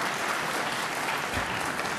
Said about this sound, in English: I don't know what exactly they applaud.